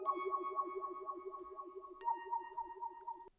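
A wobbly synth sound plays alone in a hip-hop beat, a sustained chord pulsing with a fast, regular warble before it shifts to a higher chord partway through, fairly quiet and close.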